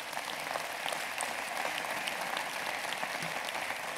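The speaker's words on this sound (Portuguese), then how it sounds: "meu querido amigo Hugo Carvalho, para quem eu peço uma grande salva de palmas" Applause from the audience at a youth political congress closing session, a dense, even roar of many clapping hands in a large hall, steady and somewhat distant, with no talk over it.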